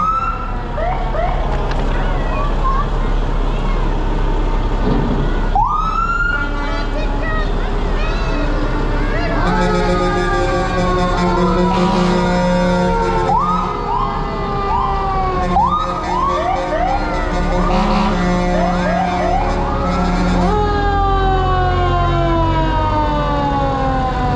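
A Fabius Park Township Fire Department fire truck siren wails loudly and repeatedly at a parade, rising and falling over a noisy outdoor crowd, with horn-like blasts mixed in.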